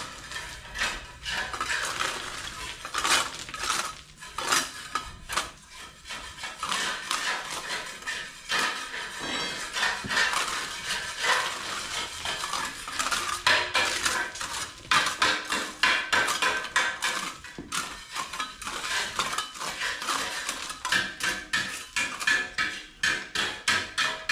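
Large cooking pots clank and clatter in steady, busy metallic handling, with dense repeated knocks and rattles throughout, fairly close and without voices.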